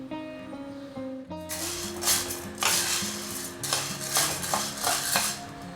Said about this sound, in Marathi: साबुदाणा आता आपल्याला छान असा भाजून घ्यायचा आहे